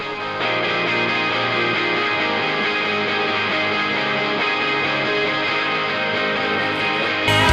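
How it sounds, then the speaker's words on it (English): Six stacked electric guitar tracks, some through humbucker pickups, ring out together in a dense, distorted band mix with chorus-like shimmer, holding a steady loud wall of sound throughout before a brief swell at the end. "For to listen to all these guitars then together, sounds something like this."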